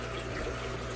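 Water running from a hose into a fish tank, a soft steady trickle and gurgle at low volume, continuous and without any talking.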